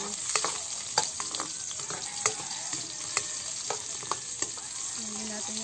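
Onion added to a pan of browned garlic, frying with a soft continuous sizzle broken by light scraping stir clicks, close and fairly quiet.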